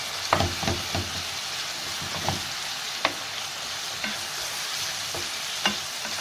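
Chicken shawarma pieces frying in a pan, a steady sizzle running throughout with intermittent scraping knocks as the meat is stirred and flipped, close and fairly soft.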